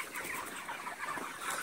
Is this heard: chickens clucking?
yes